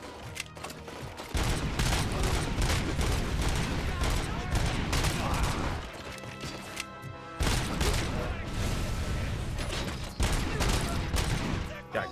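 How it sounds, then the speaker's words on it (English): Uzi gunfire in the first-person shooter RoboCop: Rogue City, loud dense bursts of rapid automatic shots with booming impacts and crashes, nearly continuous with brief pauses between volleys. "Definitely want to switch to an Uzi now."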